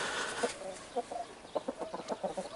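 Rooster clucks from a game, a series of short, clipped calls coming in an uneven rhythm, fairly close and clear against a faint background.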